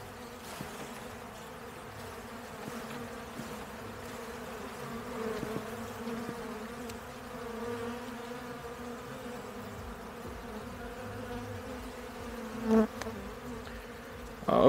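Honeybees hum in a low, steady buzz around the hive, a continuous insect drone with occasional nearer swells.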